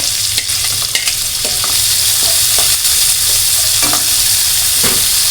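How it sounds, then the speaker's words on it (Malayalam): Finely chopped onion fries with ginger and garlic in a hot pan. A loud, continuous sizzle carries repeated sharp clicks and scrapes of a spoon stirring against the pan, with no voices. "ഇഞ്ചിയും വെളുത്തുള്ളിയും ഒന്ന് മൂത്ത് നമുക്കിനി ഉള്ളി അങ്ങോട്ടിടാം"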